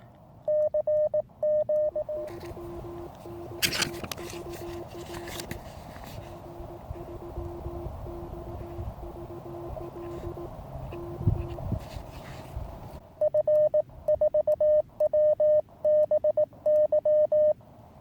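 Faint tone keying in on-off bursts, a Morse code call on amateur radio, with a steady hiss and a lower tone pulsing under a rough noisy stretch.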